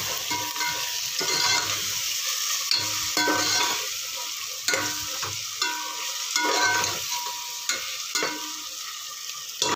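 Onion, garlic and ginger sizzle steadily in a hot pan while being stirred, with scraping strokes and occasional utensil clicks over continuous frying hiss.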